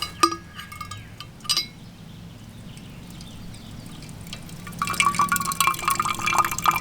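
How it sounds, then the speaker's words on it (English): Water squeezed by hand from a plastic bag through a Sawyer Mini filter into a stainless steel bottle, with early clinks and a thin stream that swells into steady trickling and filling near the end, close and fairly quiet. "simply squeeze the water through"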